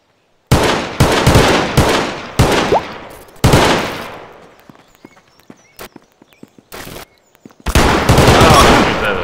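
Gunfire in a Garry's Mod battle royale game, an Uzi among the weapons: loud, close rapid bursts in several volleys, separated by quieter gaps with sparse single shots, before a final sustained burst.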